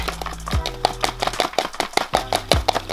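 Rapid dry rattling and tapping of live crickets shaken into a plastic container, with irregular clicks and thumps close by.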